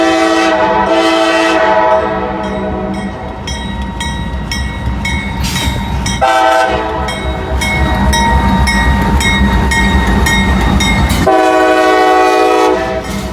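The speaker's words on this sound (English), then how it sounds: "I hear another train horn though." A freight train's multi-tone horn blares loudly in several long blasts, with the rumble and clatter of rail cars rolling underneath.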